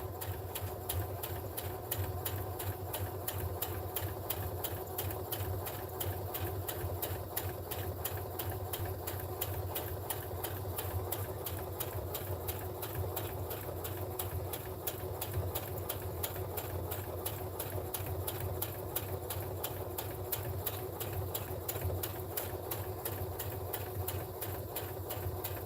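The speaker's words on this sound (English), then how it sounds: "So now I'm going to sew the last side." A sewing machine stitching the last side of a lined drawstring bag, running at a steady, rapid mechanical rhythm throughout without pause, fairly quiet and alone.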